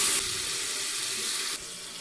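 Steady rush of water pouring into a cooking pot on the stove, loud and close, running without a break and then dropping slightly in level near the end.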